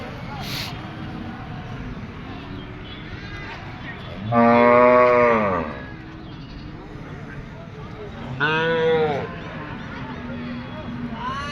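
Cattle at a busy West Bengal livestock market, with two long, loud moos rising out of steady crowd chatter and background noise.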